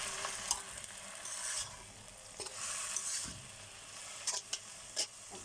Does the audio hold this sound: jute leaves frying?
yes